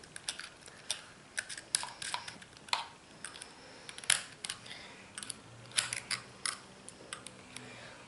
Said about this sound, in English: now I'm going to use my spanner